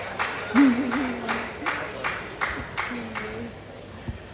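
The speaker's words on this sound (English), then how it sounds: "A warm round of applause for the CEO of Bench Pictures, Mr. Emeka Amafo." Steady, evenly spaced clapping from a conference audience runs beneath a speaking voice, moderately loud and rhythmic rather than a full ovation.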